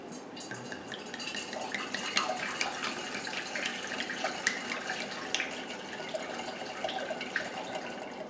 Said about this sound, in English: I'm now going to empty that out, and I'm going to pour it into another jug